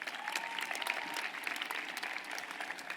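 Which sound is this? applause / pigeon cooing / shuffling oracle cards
applause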